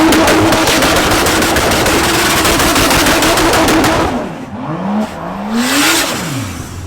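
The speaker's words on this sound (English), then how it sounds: "Do a standing burnout." A 2JZ-powered Mustang does a standing burnout on the rev limiter: a deafening, rapid machine-gun stutter of bouncing revs fills most of the clip, then the engine drops and swoops through a few rising and falling revs.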